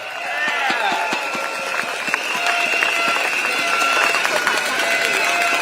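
Applause and cheering from an outdoor East Coast political rally crowd, a dense wash of clapping that swells and holds for several seconds, with scattered voices and some talk over it.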